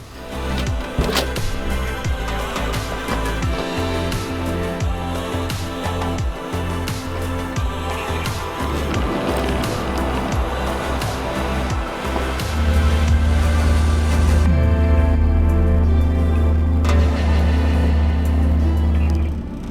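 A JDM Subaru rolls along the road with a steady engine and tyre drone, low hum beneath rattling and knocking from the cabin, swelling louder in the last stretch as it picks up pace.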